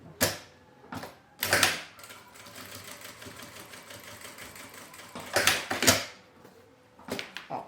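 A sewing machine topstitches a seam on a small shoulder bag, running in steady stitching bursts with brief pauses and handling clatter in between.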